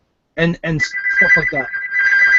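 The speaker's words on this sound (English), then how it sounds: "Is that you? That's my phone." A mobile phone ringtone sounds during an online video call, a steady electronic tone that begins partway through and continues to the end, while someone speaks over it.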